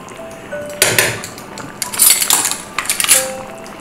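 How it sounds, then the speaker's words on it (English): A spoon scrapes and clinks against a pot of yellow rice in several loud, close bursts of metallic stirring separated by short pauses, with no voices. "Give it a good stir."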